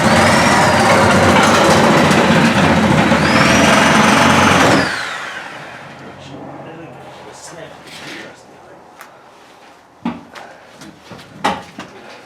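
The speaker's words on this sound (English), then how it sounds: "were you about to fire up the sawzall on there?" A Sawzall reciprocating saw cuts through material in a loud, harsh buzzing burst that stops abruptly after about five seconds, followed by quieter handling knocks and clunks nearby.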